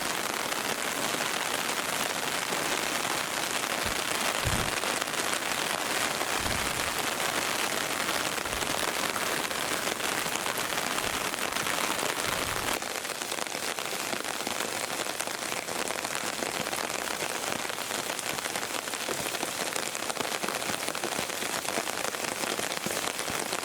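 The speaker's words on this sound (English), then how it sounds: "it was very rainy, it was very dark" Heavy rain pours at night in Kyoto, a dense steady hiss of drops hitting surfaces with a few louder nearby splashes and drips, continuous and loud throughout, no voices.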